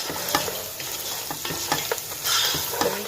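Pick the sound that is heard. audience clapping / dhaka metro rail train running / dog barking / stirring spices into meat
stirring spices into meat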